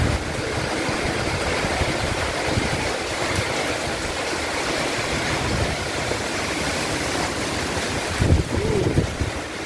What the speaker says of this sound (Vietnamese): Hôm nay là gió cực kỳ ghê luôn này mọi người, y như bão luôn